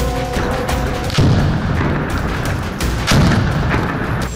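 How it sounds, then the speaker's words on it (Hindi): Continuous gunfire and heavy booms during a final military assault at first light, a dense sustained barrage with louder blasts around one and three seconds, no voices. "इस समय लगातार फायरिंग की जा रही है और ये फाइनल असॉल्ट है।"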